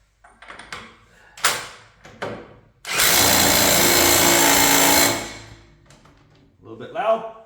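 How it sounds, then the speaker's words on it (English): An impact wrench runs on a bolt in a loud, steady burst of roughly two seconds, preceded by a few clanks of handling and followed by quieter tool noise, with voices talking nearby. "Nice to be able to use the impact on something."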